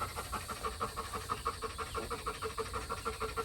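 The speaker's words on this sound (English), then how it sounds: "that panting is just it's gonna continue to happen, regardless if there's a fan or anything on her" A livestock guardian dog mother pants while nursing her puppies, with quick, rhythmic, breathy pants repeating steadily at close range.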